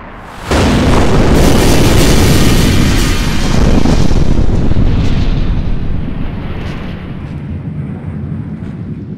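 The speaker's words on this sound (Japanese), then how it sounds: "総体が爆発するぞ。" A large explosion in a video game stage set in a city shrouded in shadow: a sudden loud boom at once, then a long, heavy rumbling roar that slowly fades while still sounding.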